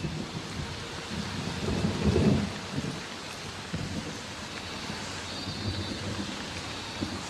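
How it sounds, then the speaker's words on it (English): Heavy monsoon rain pours steadily while a deep roll of thunder swells and fades near the middle, the downpour continuing as a dense, constant hiss throughout with no voices. "The incessant rains of the monsoon are the last straw."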